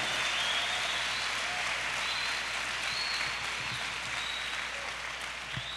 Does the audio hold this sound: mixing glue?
no